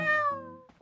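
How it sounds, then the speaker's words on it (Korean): A single long, loud cat meow close by, sliding downward in pitch, followed by a brief softer chirp. "고양이 소리 더 크게 들린다."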